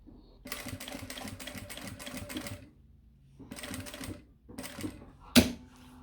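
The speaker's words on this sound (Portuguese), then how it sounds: "agora eu vou costurar novamente até aqui" A sewing machine stitches a mini backpack in fast rhythmic bursts of needle clatter, two long runs separated by a pause, then a shorter burst and a sharp clack, close and alone.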